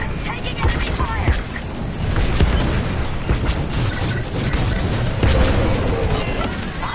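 Enemy gunfire and explosions from a PS4 combat video game: dense, continuous crackling shots and booming blasts that surge louder around two seconds and again near five seconds.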